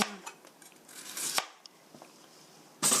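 A knife slices a carrot on a cutting board, giving a few crisp cuts and taps with short pauses, then a louder closing knock, close and alone without talk.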